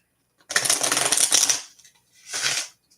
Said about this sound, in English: I feel like I need to cut this one more time, and then I'll start shuffling for you, Ari.